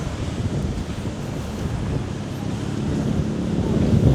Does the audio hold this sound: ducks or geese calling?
no